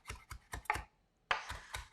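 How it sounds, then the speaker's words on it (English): Kitchen knife chopping fresh herbs on a cutting board: a quick series of crisp taps, four in a row, a brief pause, then four more, close and clear with no talk. "So when you're chopping, just like you see, I'm going one direction and then the next."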